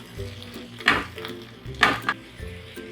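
Washed biryani rice goes into a pot of hot oil and is stirred, with two strong scraping sweeps over a steady sizzle and occasional clinks of a spoon against metal.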